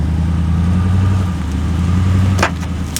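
A Jeep's engine drones steadily nearby while it tries to pull a stranded 2023 Toyota Sequoia TRD Pro free, with a low constant rumble and a couple of brief knocks near the end.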